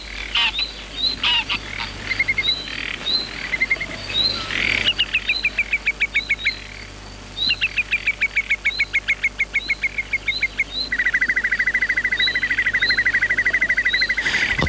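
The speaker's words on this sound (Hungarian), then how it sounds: "A vízimadarak imádják az árvizet." Waterbirds call across a flooded Bodrogzug floodplain near Tokaj, Hungary, with repeated rapid chirping trills and piping notes that overlap, ending in a fast continuous rattling run, set against a steady outdoor background with frog-like croaks.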